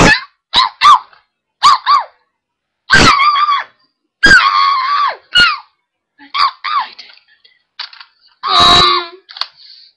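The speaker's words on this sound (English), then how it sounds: "The damn dog." A dog barks and yelps in short, sharp bursts with pauses between, close and loud, some cries rising into a howl-like squeal.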